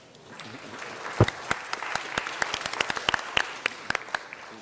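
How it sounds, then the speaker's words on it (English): Audience applause at a city council meeting, a crowd clapping close by in a dense, irregular burst that swells and continues, with a few loud individual claps standing out. "A big applause."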